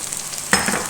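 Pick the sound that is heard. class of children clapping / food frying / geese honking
food frying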